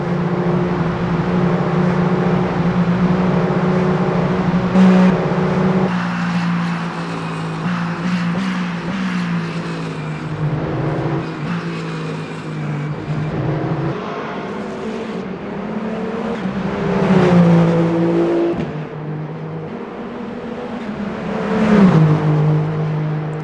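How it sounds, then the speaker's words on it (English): Le Mans prototype race car in the Le Mans Ultimate sim approaching the Mulsanne corner at Le Mans, a loud continuous engine drone with rising and falling pitch swells as other cars pass by. "And there was Kevin Estra just passing by, now into the Mulsanne corner"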